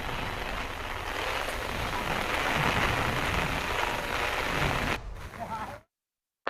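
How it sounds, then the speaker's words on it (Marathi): Heavy monsoon downpour in Palghar district as the Surya river floods riverside homes: a dense, steady roaring hiss that holds for about five seconds, then thins and cuts to silence. "गेल्या 36 तासापासून पालघर जिल्ह्यामध्ये मुसळधार पाऊस सुरू आहे"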